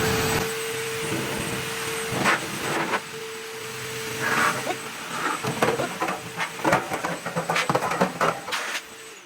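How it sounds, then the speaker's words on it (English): An AUORC dog blow dryer blowing air, a steady loud whooshing hum with a faint high whine, interrupted by bursts of handling noise and fluttering air toward the end. "let me show you the strength of the air that comes out of the blower"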